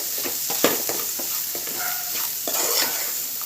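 Dried prawns fry in hot oil with a dense, continuous hiss, and a spoon scrapes the pan in short, irregular strokes close by, with no talking.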